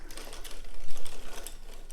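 A circular sock machine being hand-cranked around a half row, giving a steady, close mechanical clatter of needles and cams that swells slightly midway.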